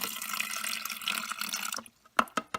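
Water is poured from a faucet or jug onto chopped ice for a protein mousse, a steady splashing stream that stops, followed by a few close drips and clinks in the quiet.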